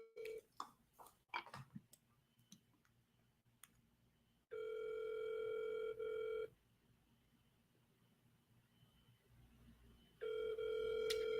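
Ringback tone of an outgoing phone call in two long, steady, loud bursts with a quiet gap between them, following a few faint clicks and taps at the start.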